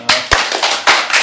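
A short burst of audience applause at a talk show, several sharp claps and scattered hand slaps over about a second, close and loud with no voices.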